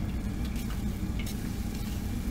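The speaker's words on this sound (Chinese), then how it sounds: "转小火翻炒至上色。" Blanched oxtail with aromatics and dark soy sauce sizzles steadily in a wok over low heat, a dense, close crackle with occasional scrapes of a spatula and no voices.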